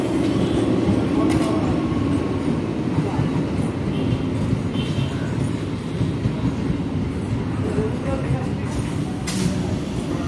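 A train running on the railway at a platform in the Sealdah division of West Bengal, India, a steady loud rumble and rattle of rail cars passing close by, with voices heard under it.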